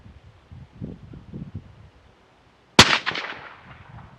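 A single .204 rifle shot cracks out sharply and loud after a quiet stretch, with a long ringing decay rolling off behind it outdoors; faint rustling and low handling noises come before it.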